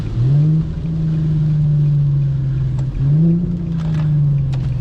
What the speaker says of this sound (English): See if I can drift this left corner.